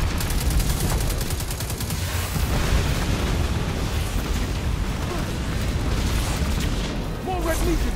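Missile explosions in the video game Destiny 2: dense, continuous booming blasts and gunfire-like crackle, loud and close, layered over a game soundtrack with a character's voice shouting.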